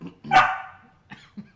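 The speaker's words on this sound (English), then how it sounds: "That's our dog. That's our dog." A pet dog lets out one loud, close bark, followed by a couple of short, softer yips in a quiet room.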